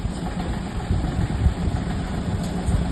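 A 2011 Chevrolet Beat diesel car idles after starting, a low rumbling diesel idle with a slight uneven knock, close and steady throughout.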